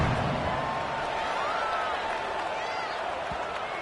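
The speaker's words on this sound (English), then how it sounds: "Do you think this crowd's going to get loud when their defense comes on the field?" Stadium crowd at a football game keeping up a steady, dense roar around kickoff, with cheering and scattered clapping blending into a continuous wash of noise.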